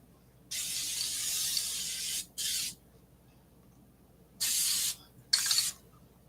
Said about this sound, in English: Hit that edge and hit that face with the spray.